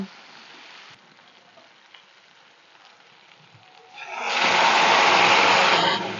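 Hot water poured into a pan of spiced potato and cauliflower, a quiet simmer that suddenly bursts into a loud, broad hiss lasting about two seconds before easing off.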